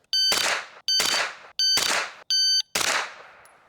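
Five loud AR rifle shots fired at a target, evenly spaced about two thirds of a second apart, each a sharp crack with a short ringing tail, the last decaying longest.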